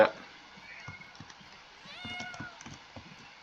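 A cat meows once, rising and falling, over soft pattering footsteps and quiet background sounds in a game scene.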